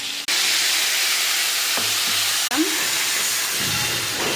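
Cumin powder, turmeric and salt sizzle over chili-ginger paste in a hot pan, a steady, loud frying hiss that runs almost without pause, broken by a couple of brief clicks and a soft clatter near the end.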